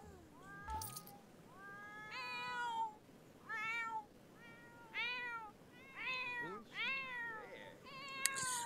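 Several cats meowing inside The Sims 4 video game, a run of about six drawn-out, fairly quiet meows at steady intervals over a low background hum.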